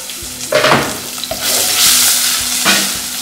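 A sizzling mixture in a hot pan gets a quick stir, loud close frying hiss swelling with a few scraping strokes of the utensil.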